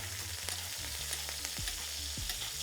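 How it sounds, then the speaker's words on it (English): New York strip steak sizzles and crackles in a hot pan with butter, a constant frying hiss, and a few soft clinks and scrapes close by. "I hope you can hear me over this searing sound."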